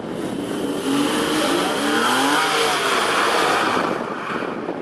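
An all-wheel-drive Porsche slides around a skid pad at Homestead, Miami, during the 2013 Porsche World Road Show. A loud, steady roar of engine and tire noise builds slightly and holds, with wind buffeting the microphone.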